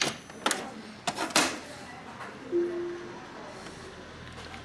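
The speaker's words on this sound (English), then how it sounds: "What are you doing, printer? I hope you're doing a head clean." An Epson printer running a print head cleaning cycle, giving a few sharp mechanical clicks and clunks early on, then a brief motor whir, with quiet gaps between the bursts.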